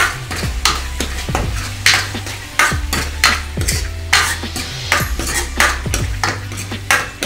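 Chole masala spices, with a little turmeric and Kashmiri chilli powder, being stirred and sautéed in a frying pan: repeated scraping strokes of a spoon against the pan in a steady rhythm over a soft sizzle, close and fairly loud, with no talking.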